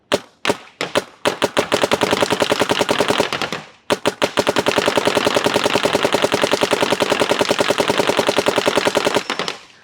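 A paintball marker fires in ramping mode at about 10 balls per second: a few short bursts, then a long, sustained string of rapid, loud, close pops that ends abruptly.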